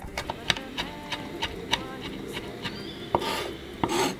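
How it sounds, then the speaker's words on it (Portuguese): Knife chopping fresh rosemary finely on a cutting board, with a steady series of sharp taps at an even rhythm, close and fairly quiet, broken by a couple of louder scraping knocks near the end. "E picar o alecrim bem picadinho"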